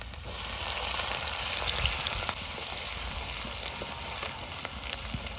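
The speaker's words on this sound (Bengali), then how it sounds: "এটা এক মিনিটের মতন ভাজি নিলাম" Chopped ginger and garlic frying in hot oil, a steady close crackling sizzle with scattered pops and faint stirring, continuous and even throughout with no talking.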